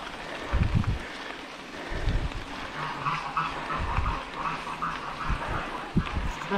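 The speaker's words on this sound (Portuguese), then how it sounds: "Aqui os patos" Ducks quacking outdoors along a mountain bike stage race route, several nasal calls scattered over a steady rushing background of wind and movement, moderately close, with no talk.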